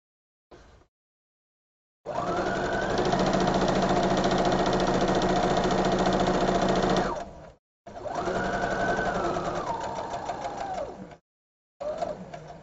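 A sewing machine stitching a large fabric bow runs in three loud, close bursts of steady mechanical whirring with a rising and falling motor pitch, broken by short silent pauses.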